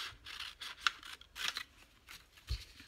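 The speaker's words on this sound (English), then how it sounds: "And then I'm just going to cut this off here." Scissors snipping through patterned craft paper for a 12x12 paper pocket, heard as a quick series of soft, close crisp cuts and rustles in an uneven rhythm.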